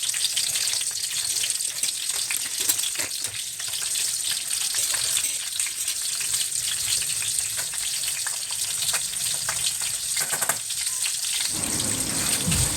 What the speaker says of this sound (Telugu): తర్వాత వచ్చేసి ఎగ్స్ ఫ్రై చేసుకుంటున్నాను